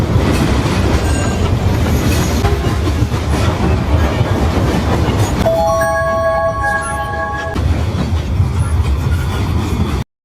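A train rolls along the rails with a steady, loud rumble and clatter throughout, joined midway by a brief ringing ding-dong chime, with no voices.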